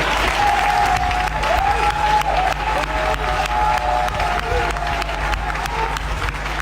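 A church congregation applauds to acclaim the Lord, with steady, dense clapping from many hands filling the room, while a sustained tone and faint voices sit beneath it.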